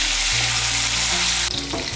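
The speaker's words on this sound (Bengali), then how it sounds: "মিশিয়ে নিয়ে পটলগুলোকে লাল করে ভেজে নেব।" Pieces of pointed gourd (potol) fry in hot oil in a pan, giving a loud, steady sizzle throughout, with a brief stirring disturbance near the end and no voices.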